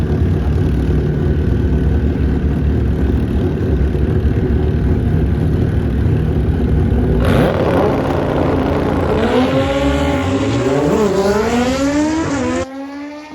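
Drag racing motorcycles idle loudly at the tree at Maui Raceway Park during a bracket race, then launch with rising, wailing engine revs that climb through the gears before the sound cuts off.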